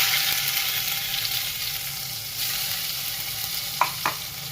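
Ginger-chilli paste sizzles and frys in hot oil with cumin seeds in a pan, a steady close crackling hiss with a couple of brief clinks near the end, no voices.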